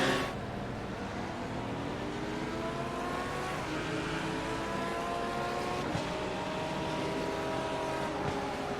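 GT3 race cars at Daytona roar together down the front straight, engines droning loud and steady with rising and falling pitch as they run side by side and shift gears.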